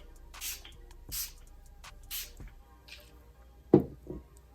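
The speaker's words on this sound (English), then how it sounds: "I'm gonna finish off with some of this finishing spray." Several short hissing spray bursts from an aerosol can of finishing hair spray, spaced about a second apart, close and fairly quiet, followed by a soft thud.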